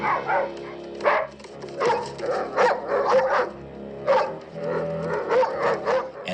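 Dogs bark in the film Oliver, a rapid volley of sharp, repeated barks and yips from several animals, loud and close, with a little shouting mixed in.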